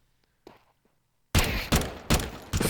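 Loud gunfire from a first-person shooter game: after a near-silent start with a couple of faint clicks, three or four heavy shots ring out in quick succession, close and punchy.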